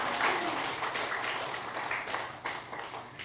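A church congregation applauds during a Sunday worship service, a faint, steady wash of scattered clapping heard from a distance in the sanctuary.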